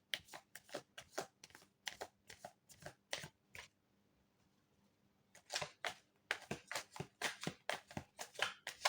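Tarot cards are shuffled by hand in quick, crisp riffling bursts, a pause of near silence in the middle before the brisk shuffling resumes, close and clear.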